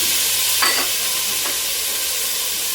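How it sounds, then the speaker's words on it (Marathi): Carrots and cauliflower sautéing in a pan for Bhogichi Bhaji, a Maharashtrian mixed vegetable dish, with a steady soft sizzle and a couple of brief stirring scrapes near the start. "हे गाजर आणि फ्लावर छान परतवूया"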